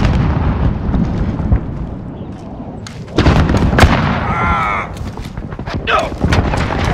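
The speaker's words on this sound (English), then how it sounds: "Heavy cruise missile incoming" Heavy cruise missile strikes in the Modern Warfare video game land as loud booming blasts amid gunfire and crackling debris, with radio chatter and voices mixed in.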